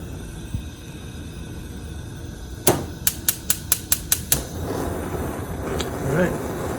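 A newly installed gas range's front burner igniter clicks rapidly about eight times in a row, followed by the soft whoosh of the burner catching flame in a quiet kitchen.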